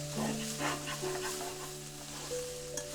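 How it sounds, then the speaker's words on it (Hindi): Onions and garlic frying in a kadai on a gas stove for a chicken curry, a steady close sizzle with stirring scrapes, alongside a constant low hum and faint background music tones. "इसमें अब मैं मिक्स कर देता हूँ और ये बाकी प्याज के साथ थोड़ा फ्राई हो जाएगा"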